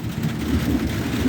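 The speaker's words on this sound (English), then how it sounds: "Yeah, we're getting some good storm action now." Steady rain from an outdoor thunderstorm over a garden of Euphorbia horrida plants, a dense, continuous wash with low rumbling underneath and no distinct claps.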